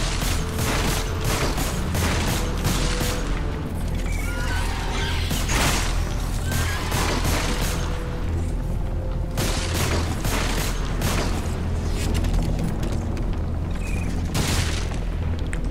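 Rapid bursts of submachine gun fire rattle again and again over a loud, dense Lost Planet 3 game soundscape with booms.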